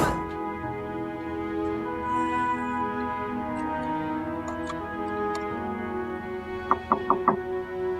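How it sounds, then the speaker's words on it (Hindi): Several quick knocks rap on a door in a home, a short cluster of sharp taps near the end after a quiet stretch with faint background sound. "समन दरवाजा खोलो।"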